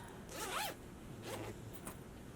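A zipper on a fabric bag is pulled in a few quick, raspy strokes close by, with short pauses between them.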